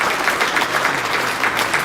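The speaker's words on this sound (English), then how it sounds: "Let's give these guys a round of applause." Audience applause at a school academic awards night for 7th–12th graders honoring award winners, a steady dense wash of many hands clapping throughout, fairly loud and continuous with no talking.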